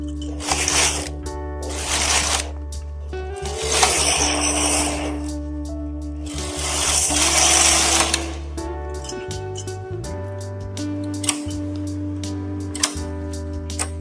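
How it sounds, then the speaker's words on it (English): Silver Reed SK280 knitting machine carriage pushed back and forth to knit tuck jacquard rows, several loud rasping sweeps over a steady low hum, with clicks and clacks as the pattern card advances between passes. "Then push the carriage back and force to knit."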